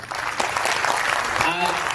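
Audience applause at a Parivartan training seminar, steady dense clapping throughout with crowd noise, with a brief voice-like tone near the end.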